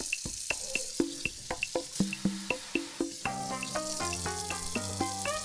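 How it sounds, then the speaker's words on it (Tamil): Hands washing things under a running tap, a steady splash and trickle with rhythmic plinking drips and small clinks, close and fairly loud, with no voices. "நான் கழுவியே காட்டுறேன்"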